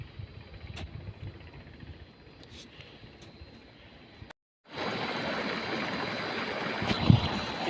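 Irrigation water from a solar-powered pump flows into a wheat field with a soft, steady rushing wash. It briefly cuts out, then returns louder and fuller.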